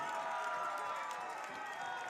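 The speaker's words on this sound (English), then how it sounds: "the Knights fans, who are trying now to clap their way to cheering the Knights on" Crowd of Corvallis Knights fans at a summer-collegiate playoff baseball game against the Portland Pickles, with broad, steady stadium noise filling the whole stretch, a continuous wash of crowd sound with scattered clapping woven in at a distance.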